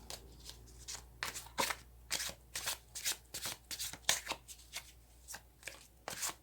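Tarot cards being shuffled by hand, a quiet series of crisp riffling bursts, about a dozen in a loose irregular rhythm, close up with no talk.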